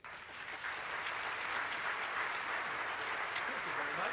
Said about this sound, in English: Please give a warm round of applause for Alton Jelks.